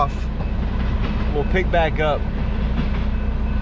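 Freight train rolling past: a steady, loud rumble with constant rail noise fills the whole stretch while someone talks briefly over it.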